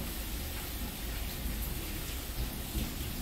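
Thunderstorm in Tulsa with heavy, steady rain hiss and low rumbling thunder rolling continuously underneath, dense and unbroken with no voices.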